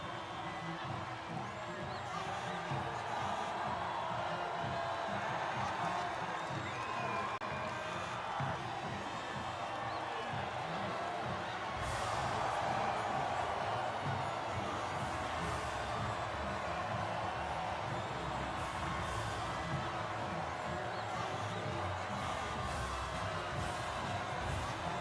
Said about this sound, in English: And absorbing the acclaim of the crowd, George Russell on the top spot.